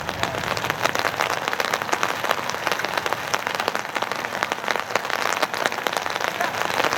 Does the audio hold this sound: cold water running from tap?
no